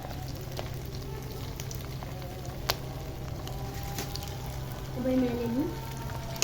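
Potatoes and chicken fry in hot oil in a kadai, a steady low sizzle and bubbling continuing under brief speech, with a couple of faint taps.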